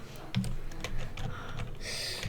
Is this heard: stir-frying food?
no